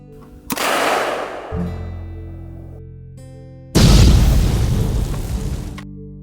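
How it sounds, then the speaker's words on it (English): Two loud booming shots from a homemade shotgun being test fired at a range, each blast trailing a long ringing decay, the second heavier than the first. "If we test fire a few rounds and it doesn't blow up, then we'll try to actually cycle some."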